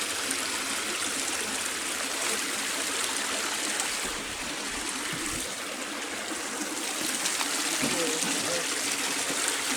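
A river rushes steadily through Cossatot State Park, its broadband flowing water noise continuous and fairly loud throughout, with voices talking faintly underneath.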